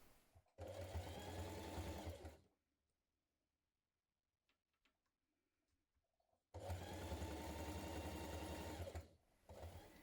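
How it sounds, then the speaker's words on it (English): A sewing machine stitches a knit band onto a cardigan in two loud, steady bursts of rapid whirring, about two seconds and three seconds long, with a near-silent pause of faint handling clicks between them. "So let's sew that band on first of all."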